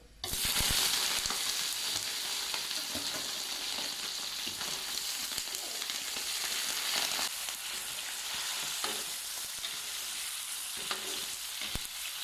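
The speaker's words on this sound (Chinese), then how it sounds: "倒入花生油，放入几颗冰糖，来炒成枣红色啊。 倒入排骨。" Pork spare ribs hit hot peanut oil with caramelizing rock sugar, setting off a loud, continuous sizzle and fry crackle, joined by scattered clacks of stirring and no voices.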